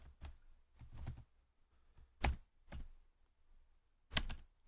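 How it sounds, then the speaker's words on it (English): Keys tapped on a computer keyboard while entering a web page title, heard as a few short clustered bursts of clicks separated by pauses, close and fairly quiet, with no talking. "So I'm just going to type a simple title."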